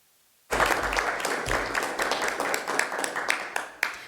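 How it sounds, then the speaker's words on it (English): A school district meeting audience gives a round of applause for salutatorian Henry, clapping starting abruptly after a brief silence and continuing steadily with a dense patter of hands, moderately near. "give a round of applause to Henry"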